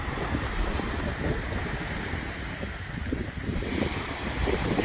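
Waves break along a rocky Lake Erie shore, a steady close wash of surf with wind buffeting the microphone throughout, no voices over it.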